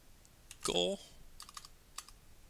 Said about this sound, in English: So let's type in the word twinkle.